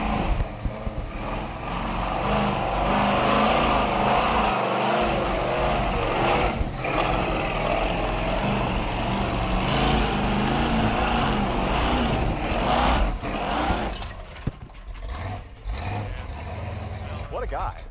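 A lifted off-road truck with a 383 V8 engine climbs a steep hill in first gear at a competition, its engine roaring loud and steady throughout, with a crowd and announcer speaking underneath.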